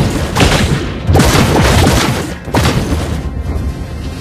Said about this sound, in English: Destroyed a turret!